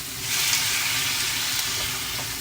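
Chopped tomatoes are stirred in a hot pan for a simple Chinese breakfast dish, giving a steady, close sizzle with soft scraping from the stirring and no talking.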